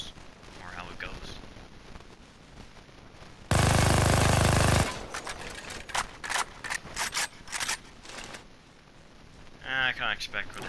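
Skorpion (Cobra) submachine gun in Payday 2 firing one loud, sustained automatic burst of just over a second, followed by clicking mechanical handling sounds and talk.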